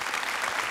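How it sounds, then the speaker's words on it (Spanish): A church congregation applauds together in a steady, dense burst of clapping that fills the whole moment without pause, with no voices rising above it. "Este aplauso es para el Señor."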